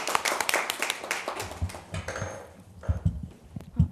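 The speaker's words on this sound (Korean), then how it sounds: "박수로 청해 듣도록 하겠습니다" Scattered clapping from an audience at a policy forum on community suicide prevention, starting busy then thinning into a few separate claps and taps near the end, moderately close.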